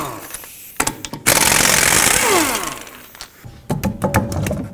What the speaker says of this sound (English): just go ahead and take off the lug nuts with a 19mm